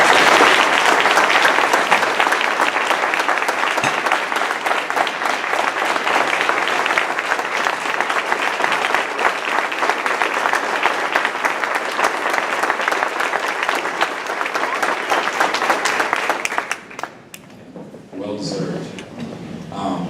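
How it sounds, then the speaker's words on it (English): Sustained applause from an audience at a Rotary Club meeting, loud and steady for most of the stretch, then cutting off abruptly near the end as the room quiets and a voice begins speaking. "So let's give her one more round of applause."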